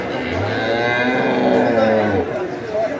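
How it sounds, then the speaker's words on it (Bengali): A young bull calf at a rural cattle market gives a loud, sustained moo close by, one long drawn-out bellow filling the moment. "বাছুরটা হচ্ছে ষাঁড় বাছুর"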